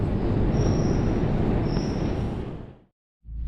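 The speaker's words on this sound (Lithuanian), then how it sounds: "Važiuosim traukinuku." A loud, rumbling metro train roar in Kyiv with faint high squeals from the wheels, steady at first, then fading abruptly into silence before resuming.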